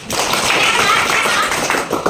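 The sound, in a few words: clapping hands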